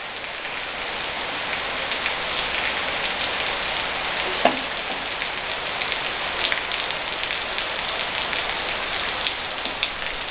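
Steady rain falls on open ground in the countryside, a dense, even hiss of drops that holds at a constant loudness throughout, with one faint brief knock partway through and no voices.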